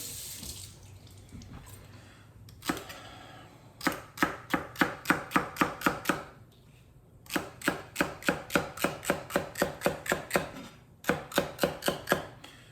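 A kitchen knife chops celery stalks and carrots on a cutting board for chicken noodle soup, in fast, evenly spaced bursts of crisp close-up knocks separated by short pauses, with a faint running-water hiss underneath.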